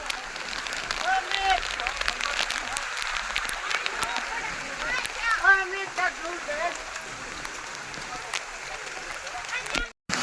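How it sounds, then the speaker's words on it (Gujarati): Steady rain patter on Girnar mountain fills the scene, with voices and faint calls mixed in under the hiss throughout. "ગિરનારમાં વરસાદની મોજ હો ભાઈ"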